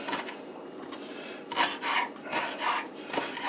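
A knife chops fresh cilantro on a board, giving rough scraping and rasping strokes in uneven bursts, close and fairly faint, with no talk.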